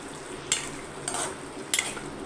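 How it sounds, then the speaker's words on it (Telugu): Ridge gourd curry simmers and sizzles softly in a pan, with three brief bursts of a spoon scraping and stirring through it, alone and fairly close. "ఇదండి మళ్ళీ కొంచెంసేపు ఉడకనిద్దాము"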